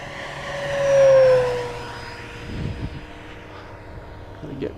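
An FMS 1700mm Corsair V3 RC airplane flying on 6S with a new propeller whines past, its motor tone peaking loudly around one second then fading with a falling pitch; someone talks faintly over the outdoor air.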